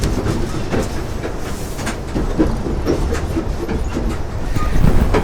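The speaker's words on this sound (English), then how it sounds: "I want to go explore the Amtrak train." An Amtrak passenger train heard from inside a carriage: a loud, steady rumble with rhythmic clickety-clack of the wheels over rail joints that keeps going throughout.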